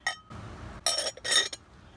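Green Indiana Glass chicken figurines handled on a table, producing a few light, bright clinks and taps of glass against glass in quick separate bursts, fairly quiet and close.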